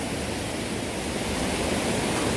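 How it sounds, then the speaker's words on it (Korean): A mountain valley stream at a campsite rushes steadily, a broad continuous wash of flowing water with no other sounds in the foreground. "계곡 소리 엄청 좋네"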